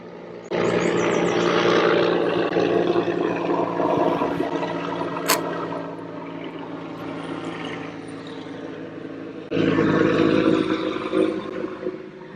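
A helicopter passing overhead, a loud sustained rotor and engine drone that eases partway through and then swells again, with no talking.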